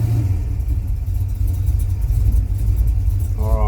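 A car engine fitted with a Holley/Quick Fuel carburetor idles in a steady, loud, low rumble with a slight uneven lope, and a voice begins to speak just at the end.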